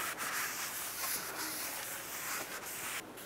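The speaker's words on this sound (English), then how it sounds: "Wash it off and wipe it with a rag." A rag wipes a brake rotor clean after a spray of brake parts cleaner on a 2007-2014 Chevy Silverado 2500 HD, a steady close rubbing hiss that runs for about three seconds with no talking.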